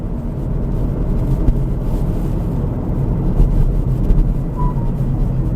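A VinFast VF5 electric hatchback pulls away from a standstill on an empty, somewhat rough road, giving a steady low rumble of road and cabin noise that holds evenly without any engine note.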